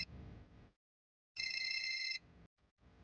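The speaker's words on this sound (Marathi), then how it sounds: "बायकोचा फोन आला" A phone ringing with an incoming call gives one loud, steady electronic ring burst after a pause, with quieter background noise before and after.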